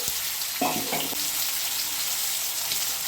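Fried potatoes tipped into a hot pan of sizzling vegetables for a Bengali cabbage dish, a brief clatter followed by a steady frying hiss; no voices.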